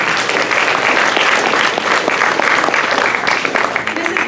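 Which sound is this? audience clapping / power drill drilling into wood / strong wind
audience clapping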